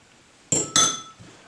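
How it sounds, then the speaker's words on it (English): A fork taps and scrapes twice against a bowl while scone dough is worked, two crisp close metallic clinks followed by a faint softer tap, with no talking. "scrape off the fork"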